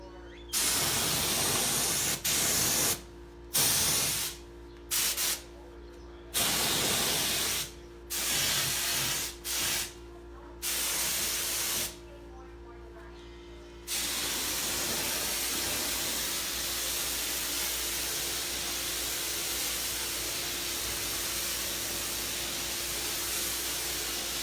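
A paint sprayer mists blended paint colors in a string of short, loud hissing bursts, then runs into one long, steady spray that continues to the end with no talking.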